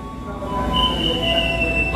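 A commuter train rolls past close by on a busy Indonesian line, a steady loud rumble with high-pitched wheel squeal sustained throughout the brief moment.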